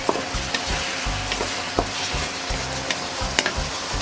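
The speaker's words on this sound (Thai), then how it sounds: "ใส่ขึ้นช่ายลงไปค่ะ คลุกเคล้าทุกอย่างให้เข้ากัน" Pork stir-fried with celery in a pan, a keto dish with black pepper, sizzling steadily while being tossed, with clinks of a utensil against the pan; close and continuous, no talk.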